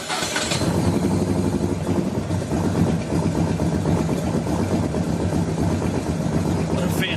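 A Morgan 3 Wheeler engine fires up with a brief burst, then settles into a loud, close, lumpy idle with a steady throbbing rumble.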